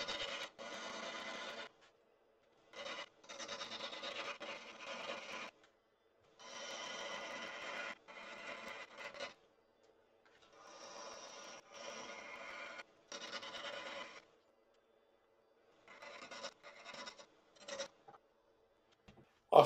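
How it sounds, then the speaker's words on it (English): A spindle gouge makes refining cuts on a bud vase with an offset stem turning on a woodturning lathe, giving a series of soft, raspy scraping bursts of a second or two each, separated by short pauses. "I swapped to a spindle gouge at this point for the final refining cuts because it's a bit easier to get into the corners"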